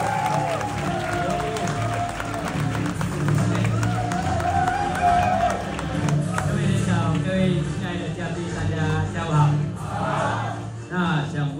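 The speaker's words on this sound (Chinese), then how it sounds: "各位最热烈的掌声欢迎我们 Team 37的创办人飞马九六环 David Yeo。" An audience applauds as the founder of a team is welcomed to the stage at a testimony-sharing event; steady, dense clapping runs throughout, mixed with voices and music-like tones.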